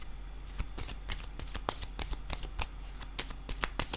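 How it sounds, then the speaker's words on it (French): Tarot cards are shuffled and drawn from a deck, giving a rapid, close series of crisp riffling flicks and snaps that continues steadily throughout, with no talking. "Je vais piger une autre carte."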